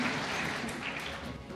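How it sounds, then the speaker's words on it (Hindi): An audience gives steady applause at an Independence Day event, a continuous wash of many hands clapping. "और जोरदार तालियां एक बार"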